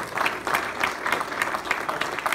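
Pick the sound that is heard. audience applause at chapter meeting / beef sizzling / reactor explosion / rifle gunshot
audience applause at chapter meeting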